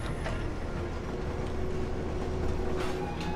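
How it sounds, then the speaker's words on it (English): Train car shifting along a track in the Fallout 4 video game, a steady continuous rumble with faint rattling that holds evenly throughout, moderately loud and without speech. "You press buttons and it shifts the train along."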